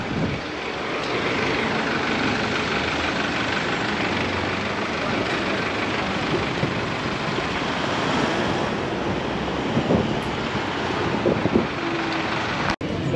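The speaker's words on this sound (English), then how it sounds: "Just very busy streets, lots of buses, lots of traffic" Busy street traffic in San Jose, Costa Rica, with buses, forms a loud, steady roar that blends engine rumble with broad wind-like noise. It runs continuously, with a few sharp knocks near the end and no voices.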